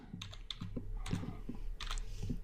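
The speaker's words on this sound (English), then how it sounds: "I'm going to type in title" Fingers type quickly on a computer keyboard, a close run of crisp key clicks in an irregular rhythm with no voices.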